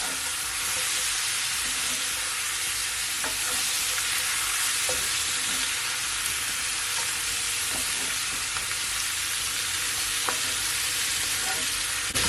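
Jamaican curry chicken wings with corn being stirred in a hot pan, a steady loud sizzle and fry running throughout with occasional scrapes of the spoon, no voices.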